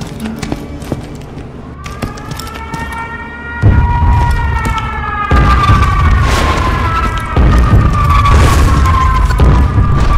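A fire elemental weapon firing at a video game firing range, a whooshing, roaring burst that swells to a loud sustained rumble with rising tonal whines and sharp impacts layered over it.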